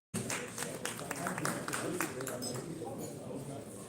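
Scattered clapping from guests at a business innovation dinner starts suddenly and thins out toward the end, moderately quiet, with voices murmuring underneath.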